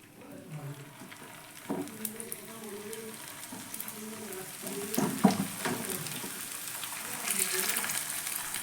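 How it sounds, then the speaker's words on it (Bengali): Potato-stuffed tiffin snacks deep frying in hot oil, a steady soft sizzle with occasional bubbling bursts, close by, with faint voices or kitchen sounds under it. "আর এই তেলের মধ্যে আবারও বাকিগুলো দিয়ে ভেজে নিব"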